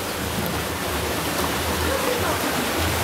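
Waterfall inside a cave in Iran, a steady, loud broadband rush of falling water that stays constant throughout without any break.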